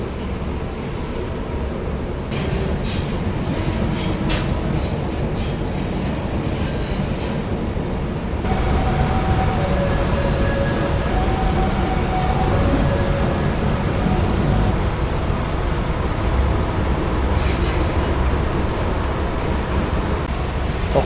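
A train on a curvy city-centre track, hemmed in by houses, rolls into Padang station with a loud, close rumble, steady wheel noise and high, sustained wheel squeals through the bends.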